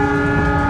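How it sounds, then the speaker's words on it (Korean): A long, loud, steady horn blast from an Indonesian panorama express train, sounding continuously on its own and close by as it passes between rural villages. "그 열차가 가면서 기적 소리를 엄청 내더라고요."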